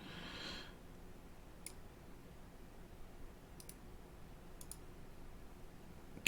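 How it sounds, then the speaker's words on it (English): Several sharp computer mouse right-clicks, faint and close, landing as isolated ticks spaced a second or two apart over quiet room hiss. "I keep right clicking because I'm using."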